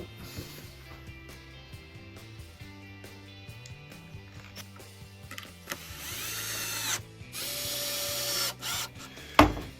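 A power drill drives two small screws into a wooden French cleat for plane storage, the motor whirring in rising bursts that stop and start, close and fairly loud, ending in a sharp knock.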